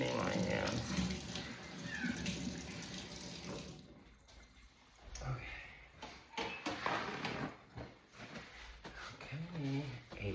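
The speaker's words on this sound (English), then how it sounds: "quickly rinse my hands and wash them again because I'm OCD about cleaning my hands" Tap water runs into a sink as hands are rinsed and washed, a steady close splashing that continues from start to finish with brief changes in the flow.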